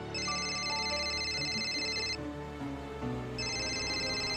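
A phone rings indoors in a Marathi TV serial scene with a bright electronic ringtone: two bursts of repeating high chiming tones separated by a short gap, fairly quiet over a low background hum.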